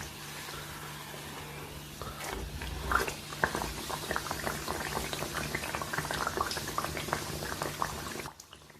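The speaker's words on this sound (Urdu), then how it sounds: "اس کو آپ نے تیز آنچ پر فرائی کرنا ہے" Battered pakora naan fries on high flame, a steady close bubbling and crackling of hot oil with irregular pops, fading out at the very end.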